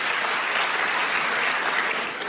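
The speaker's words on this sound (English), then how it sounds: "Clap for Jesus" A church congregation claps for Jesus in a steady, dense wash of applause with no pauses.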